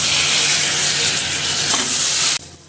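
Pumpkin pieces go into a hot pan and fry with a loud, dense sizzle close to the mic, which continues steadily and then cuts off abruptly.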